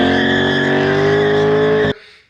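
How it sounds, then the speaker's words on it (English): A C5 Corvette with an upgraded exhaust accelerates hard, giving a loud, close, continuous aggressive engine roar that climbs slightly in pitch for about two seconds before cutting off abruptly. "it becomes quite aggressive, and that's sort of the ideal characteristic of an exhaust system"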